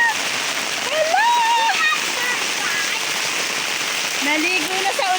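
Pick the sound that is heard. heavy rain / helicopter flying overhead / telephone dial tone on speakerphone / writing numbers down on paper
heavy rain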